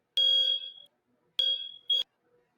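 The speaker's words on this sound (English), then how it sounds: "Looks like we got Ralph with a little fire alarm." Smoke detector alarm in an apartment complex sounding two loud, shrill electronic beeps, the first long and trailing off, then a second beep followed quickly by a short third, with silence between.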